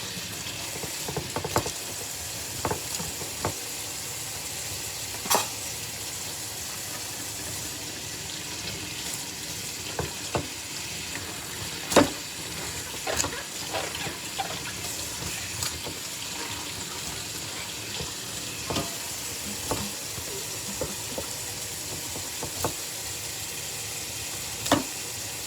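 A knife cuts through a tough pineapple with scattered sharp crunches and clicks, close by, over a steady hiss like running water, with no talking.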